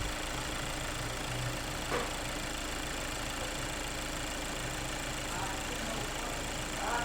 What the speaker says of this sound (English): It's sitting idling.